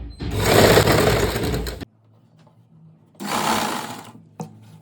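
A sewing machine stitches lining pant fabric in two loud, fast bursts of rapid whirring separated by a short pause, heard up close with no talking.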